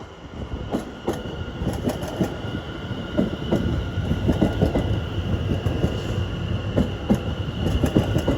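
A Greater Anglia Class 720 electric multiple unit passes through Shenfield station on the Great Eastern Main Line, giving a steady mid-level rumble with rhythmic wheel clicks and faint high squeals.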